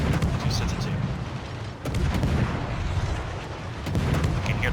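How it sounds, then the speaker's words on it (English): Incoming naval shells in World of Warships land as a continuous dense roar of booming artillery-like fire and explosions, loud and sustained throughout with a brief dip midway. "You can hear the shells coming in."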